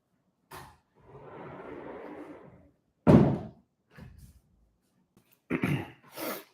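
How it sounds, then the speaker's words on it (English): An indoor door is pushed shut, making a soft shuffling sweep followed by a sharp, close thud, with a few lighter knocks and bumps after it in an otherwise quiet room. "Let me close this door"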